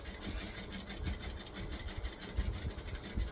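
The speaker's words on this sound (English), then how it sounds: "So I'm just stitching along." Sewing machine running steadily while stitching fabric on a modified Taylor pattern, a close continuous mechanical whir with a fast rhythmic needle pulse, no voices.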